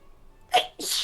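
A single person sneezes at a tabletop role-playing game session, a short sharp inhale-and-burst followed by a second breathy release, close and clear against a quiet room.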